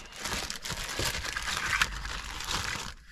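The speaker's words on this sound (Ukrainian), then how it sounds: "далі пакетик з, я так розумію, кан бусом" Close, continuous crinkling of a small plastic bag holding a CAN bus adapter, unpacked with an Android car head unit for a Peugeot 308 SW; the rustle lasts about three seconds and there is no talking.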